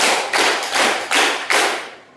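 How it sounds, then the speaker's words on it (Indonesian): A classroom of students claps together in a few loud, rhythmic bursts of group applause, close by and with no talking over it. "Kita tepuk dulu. Tepuk tangan."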